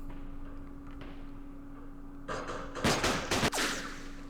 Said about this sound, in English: I wonder if that's a sniper or what is that?